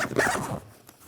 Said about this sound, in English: I'm gonna zip this up.